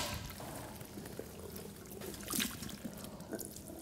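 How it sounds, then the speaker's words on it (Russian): Water pouring and trickling as serum is rinsed out of hair during a silk hair lamination treatment, a steady splashing flow with a brief louder gush near the middle. "Я смываю сыворотку."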